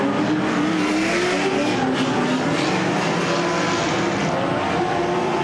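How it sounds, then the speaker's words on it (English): Several drift cars, Nissan 240s and a BMW E36, roaring around a race track at a birthday drift event, a loud continuous engine wail with shifting revs and tire squeal throughout. "6 cars on track. Not all of them drifting at the all same time."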